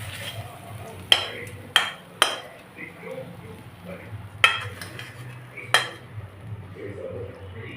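Chicken braising in a pan for a pointed gourd mince curry is stirred with a utensil, giving several sharp metallic clinks and scrapes against the pan over a low steady cooking hum, with faint murmuring in the background.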